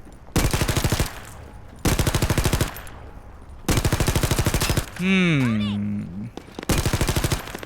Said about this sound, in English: I wanted to experiment with a submachine gun